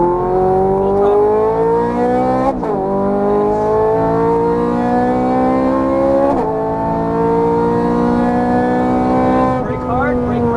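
A Ferrari 430 Scuderia engine pulls hard at full throttle, a loud harmonic howl climbing steadily through three quick upshifts, heard from inside the car with an instructor talking over it.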